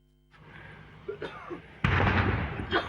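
Several dull distant booms and bursts from a drone attack on port infrastructure in Ukraine, the last one louder and more sustained with a rumbling tail.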